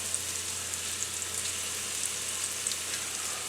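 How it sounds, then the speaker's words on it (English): Chicken pieces fry in hot oil in a pot over medium-high heat, a steady, even sizzle with light crackle and pops throughout, close and fairly quiet, with no voices. "our oil has heated up over medium-high heat. So we're going to take our chicken and add that in"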